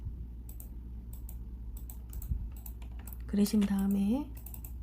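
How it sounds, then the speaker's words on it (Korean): Keys tapped on a computer keyboard while tracing an outline in Photoshop, including a press of the delete key, heard as scattered light clicks under a person speaking Korean. "델리트 키를 눌러서"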